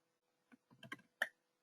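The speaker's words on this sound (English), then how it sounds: "So I would be typing here something like this." A few keystrokes on a computer keyboard while a string is entered in Java code, faint and irregular clicks with short pauses, no talking.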